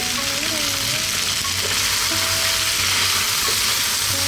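Equal parts ground turmeric, coriander, chili and cumin fry in hot oil in a pan for a beef potato curry, a loud, dense, continuous sizzle heard up close, with stirring scrapes and a faint background tone.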